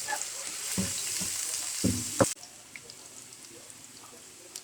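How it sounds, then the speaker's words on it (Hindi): The white part of a roll filling fried in ghee, a steady quiet sizzle with a few brief clanks and stirring scrapes before the frying sound softens and continues alone. "ये पहले वाइट वाला पार्ट डाल लेंगे, इसको थोड़ा सा तल लेंगे"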